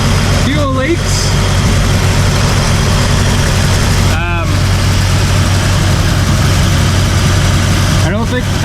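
A 1950 Dodge Meadowbrook engine idles loudly and close by with a steady low rumble throughout, while a voice briefly cuts in over it a few times.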